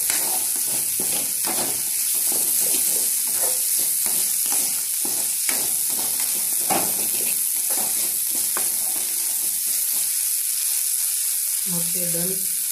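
Capsicum frying in a pan for a fish stir-fry, stirred with steady scraping strokes over a continuous sizzle; the stirring is close and clear, easing off near the end as a brief tonal clatter comes in.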